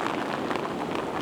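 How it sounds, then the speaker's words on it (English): Heavy rain pours down on the Blackpool seafront on the last day of 2023, giving a short burst of dense, even hiss and patter with no break and no voices. "can you hear the rain coming down? It is absolutely chucking it down."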